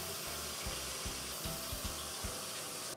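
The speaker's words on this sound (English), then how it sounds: "I'm gonna rinse these in, like, not hot water." Tap water runs steadily into a kitchen sink while raw meat for homemade ferret treats is rinsed under it, a soft continuous splashing hiss with a few low thumps of handling, alone and fairly quiet.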